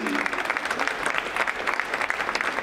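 Steady applause from a festival audience at a poetry event, dense clapping filling the whole stretch with a faint murmur of voices underneath.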